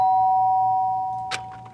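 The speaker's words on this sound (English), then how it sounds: "the sound of the doorbell forced its way into my room." Doorbell in the video game Danganronpa: Trigger Happy Havoc, a clear electronic two-tone chime with a sustained ring that fades, followed by a short faint click near the end.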